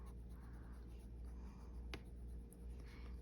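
Colored pencils, Colorya brand, scratch steadily across paper as shapes in a Flowerscape coloring book are filled in and colors blended, a quiet, close, continuous rubbing with one sharper tick partway through.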